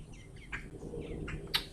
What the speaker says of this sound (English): I'm distracted by all the birds and stuff.